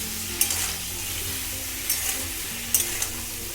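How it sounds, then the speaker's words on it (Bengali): Cauliflower frying with salt and turmeric powder in a pan, giving a steady close sizzle broken by a few sharp clinks of stirring. "আর একটু হলুদ গুঁড়ো দিয়ে ফুলকপিটাকে আমি ভালো করে ভেজে নেব"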